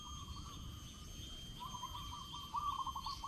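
Zebra dove (merbuk) giving its kocak call outdoors in Pahang, a faint bird voice with soft repeated notes that grow into a brighter rapid trill near the end, set against steady background hiss and distant ambient noise.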